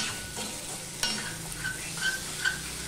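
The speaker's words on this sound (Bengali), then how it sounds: "এবার টমেটোটা নরম হবে, পটলটা আর একটু ভাজা হয়ে যাবে।" Tomato and pointed gourd fry in a pan with two green chillies, the base for a thin bata fish curry. A soft, steady sizzle runs throughout, broken by a few light stirring scrapes and clicks, fairly quiet, with no talking.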